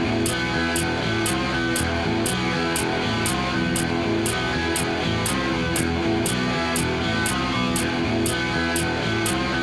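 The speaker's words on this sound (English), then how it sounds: "So I'm just going to copy and paste my hi-hat sound, which is my keys, onto every beat." Looped drum beat with a hi-hat sound made from jangling keys ticking on every beat over a dense, continuous backing mix, steady and unbroken throughout.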